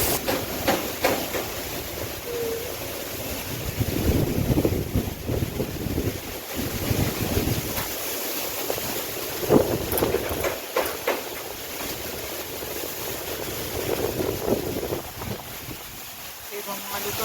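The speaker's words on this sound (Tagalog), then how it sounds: "Lakas yung hangin eh." Strong typhoon wind on a small farm in the Philippines buffets the microphone in a steady roar with gusts, while voices talk intermittently underneath.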